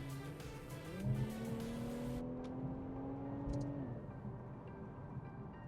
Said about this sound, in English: Pulls hard, really pulls hard. Why? 3-liter V6 twin turbocharged.